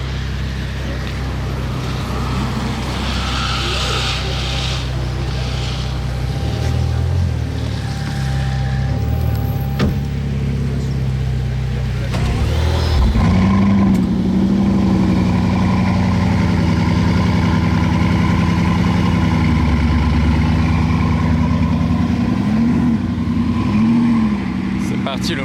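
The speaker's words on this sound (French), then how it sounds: "je vais vous filmer le démarrage à froid." A Bugatti Mistral's W16 engine cold-starts partway through, following a loud background hum: a sudden burst and crank, then a deep, steady, slightly wavering idle that carries on loud and close.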